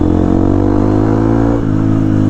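A Honda XR150L motorcycle fitted with a Yoshimura exhaust revs loudly and close by, its steady throaty engine drone holding for a couple of seconds before the pitch dips briefly and picks back up.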